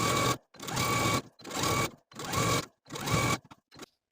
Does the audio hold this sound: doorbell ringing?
no